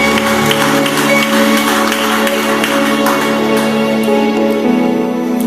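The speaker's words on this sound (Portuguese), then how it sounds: "Você pode aplaudir o nome de Jesus?" A church congregation claps along in scattered, rhythmic bursts over sustained keyboard or organ chords during a worship service, the clapping fairly light beneath the loud music.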